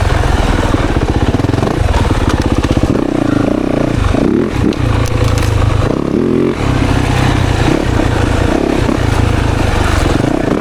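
A 2024 Yamaha YZ 450FX dirt bike thumps loudly at low RPM while riding through woods, its engine chugging steadily up close with brief dips and surges of throttle.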